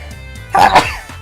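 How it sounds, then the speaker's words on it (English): A single loud, sharp sneeze bursts out against a quiet background, brief and close. "Big sneezes."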